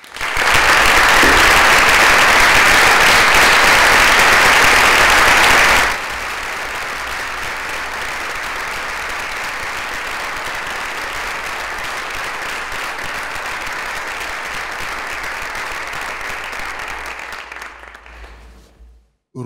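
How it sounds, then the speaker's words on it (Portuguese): An audience at a public debate breaks into loud, dense applause that holds strong for several seconds, then drops to a softer, sustained clapping that fades out toward the end. "Quero uma salva de palmas para o Zé da Guiné"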